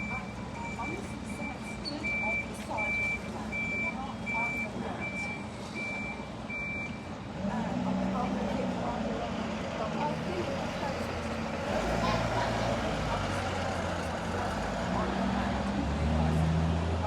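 Buses and other large vehicles idle and move around Yeovil bus station, with a reversing beeper pulsing steadily in the first half, engines rumbling throughout and a voice speaking in the background.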